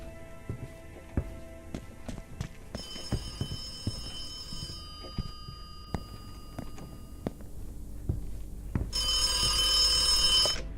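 Payphone ringing in the video game The Occupation, a bright electronic bell tone that comes in bursts and grows loud near the end, over clicks, thumps and ambient game noise.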